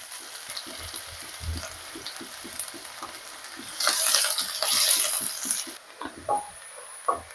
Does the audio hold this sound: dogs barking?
no